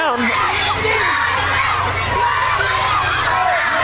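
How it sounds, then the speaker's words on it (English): A wrestling crowd at an outdoor ballpark event chants and shouts for the wrestlers in a continuous, dense roar of many voices, loud and sustained throughout without a break. "Half the crowd chanting for Lightning, half of them chanting for Psycho."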